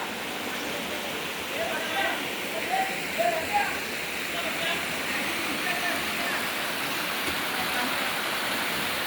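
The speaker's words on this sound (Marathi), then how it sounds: "पाहू शकता बघा चांगला धबधबा टाईप आहे" A forest waterfall roars steadily nearby, a dense unbroken rush of water, with a person's voice faintly speaking over it for a few seconds.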